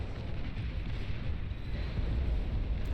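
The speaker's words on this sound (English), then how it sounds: "A plasma cannon continuing to fire away over here." Plasma cannon fire in the real-time strategy game Beyond All Reason during an 8v8 match, a dense continuous low rumble of blasts and booms at steady loudness, with no speech over it.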